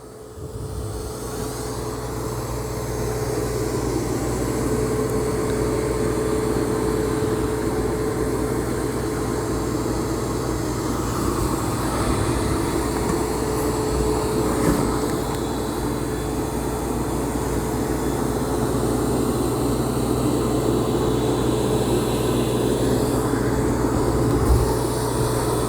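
A Roborock Saros 20 robot vacuum works over carpet strewn with long hairs, Cheerios and ground coffee at maximum suction, making a steady, close whirring hum that holds evenly throughout.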